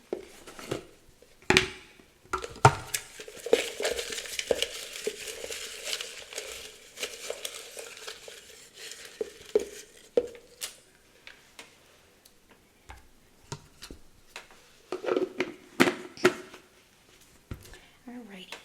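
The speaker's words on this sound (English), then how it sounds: "Give that a good shuffle so we don't get the same things from group 1." Tarot cards are shuffled and handled close up, producing bursts of crisp flicking and riffling taps with soft paper rustles, irregular and intermittent, with a voice talking in between.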